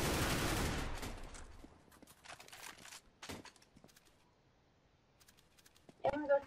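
Gunfire in CS:GO: a loud burst of rapid shots at the start, then scattered fainter distant shots and clicks, with voices talking over it near the end.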